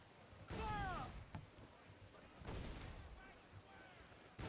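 Naval cannons firing in Assassin's Creed IV Black Flag, two heavy broadside booms a couple of seconds apart with tonal whooshes trailing the first, fairly loud over a quieter bed of ship ambience.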